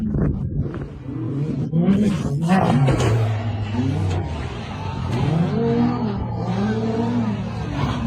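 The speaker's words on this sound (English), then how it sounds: "The vehicle charges forward with serious momentum, clearing the first incline smoothly." A 4x4 off-road vehicle climbs a steep hill, its engine revving loudly and rising and falling in pitch as it charges forward, close and continuous, with voices and cheering in the background.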